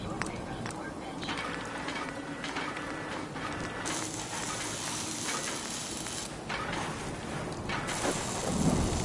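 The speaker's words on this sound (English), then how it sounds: "thinking how wonderful it would be to get out of this infernal rain" Rain and rolling thunder from a storm in the video game Fallout 4, a steady wash of falling rain under continuous rumbling, moderately quiet, with voices talking over it.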